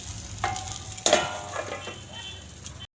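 Sliced eggplant frying in oil in a covered pan over low heat, a soft continuous sizzle with a few sharper crackles and spits, close by and moderately loud, with no talking.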